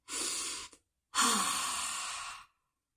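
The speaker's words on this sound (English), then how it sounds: "just breathe deeply, preferably longer out than in breaths" A slow, deep breath followed by a long, audible exhale, both close and breathy, with a short pause between them and no talking.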